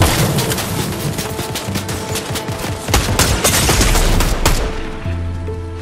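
Sustained loud gunfire in the Fortnite video game as players shoot at a turret, with dense rapid automatic bursts and booming impacts that ease off near the end.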